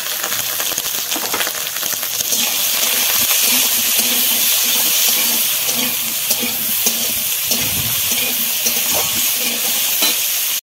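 Vegetables sizzle loudly in a pan with a pinch of turmeric and salt for a vegetarian festive dish, a dense, steady frying hiss with occasional stirring scrapes throughout.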